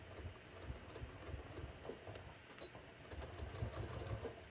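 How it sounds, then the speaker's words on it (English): A sewing machine stitches the front pocket of a pair of jeans, its needle chattering in quick, rapid bursts that rise and fall, fairly close and moderately quiet with no talk. "this is how I sew all my front pockets"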